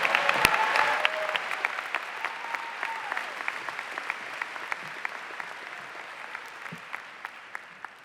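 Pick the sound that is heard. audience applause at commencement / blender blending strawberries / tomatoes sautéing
audience applause at commencement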